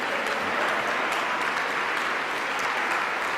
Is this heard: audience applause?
yes